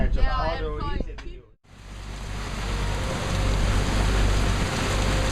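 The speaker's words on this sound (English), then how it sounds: "The rain came in rapidly and intensely." A sudden morning rain squall in Ha Long Bay, Vietnam: steady heavy rain roars in after a brief pause, a dense wash of drops that swells and stays loud; a voice is heard briefly before it.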